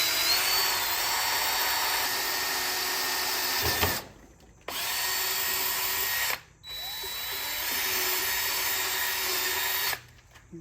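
A power drill boring a pilot hole for the foot pedal on a Hustler Fastrak SDX mower deck, whining steadily in three separate bursts with short pauses between them, close and fairly loud, with no talking.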